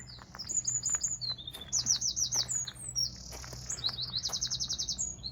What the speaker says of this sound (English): I think that bird's agreeing with me.